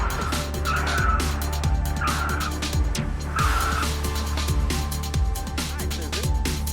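A 1987 BMW brakes hard while turning, its right front tire locking and squealing in repeated short bursts over a steady engine drone, close and loud, with people talking throughout.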